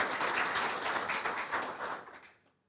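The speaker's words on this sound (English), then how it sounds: "So first, a round of applause to you guys," A crowd at an awards night applauds steadily for a couple of seconds, a dense wash of clapping that thins and fades out near the end.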